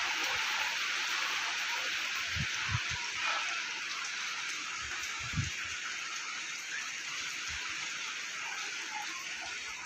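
Steady rain falls as a continuous, fairly soft hiss with no breaks, broken by a few low thumps and knocks nearby.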